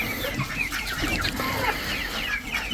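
Adler chickens and roosters clucking together in a dense, continuous flock chorus at a poultry yard in Qo'qon, with overlapping calls throughout and no talk.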